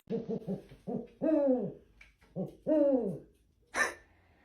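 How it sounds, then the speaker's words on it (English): Eurasian eagle owl hooting in a series of deep, resonant calls: several short low hoots, then two longer drawn-out ones with harmonics, and a final brighter screech-like note, fairly close and clear with no talking. "Meet the Eurasian eagle owl."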